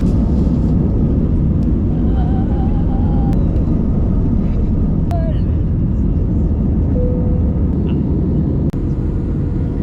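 Airplane cabin noise in flight over France, a loud, steady low engine roar and rush filling the whole stretch, with faint speech-like sounds under it.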